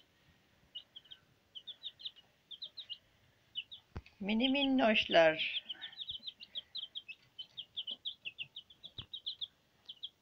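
Ten-day-old chicks chirp in quick high peeps in a repeating rhythm across the whole stretch, close and clear. A person speaks briefly partway through, and the chirping carries on steadily afterward.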